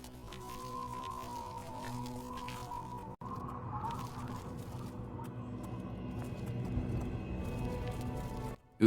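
Horse hooves in the video game Oblivion, a soft continuous patter of clip-clopping steps under a faint steady tone, with one brief dropout partway through and no talking.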